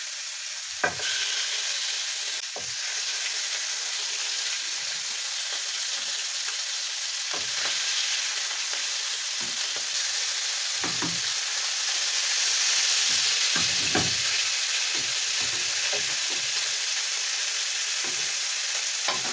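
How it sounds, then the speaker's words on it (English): Lamb chops fry in a hot pan, giving a loud, continuous hissing sizzle that holds steady throughout, with occasional brief spits and crackles and no talking. "So I think our pan is hot. So I'm gonna put our chops."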